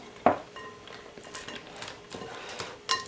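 Popcorn and marshmallows being stirred in a bowl, giving a few light clinks and scrapes: one sharper knock near the start and another near the end, with softer rustling movements in between.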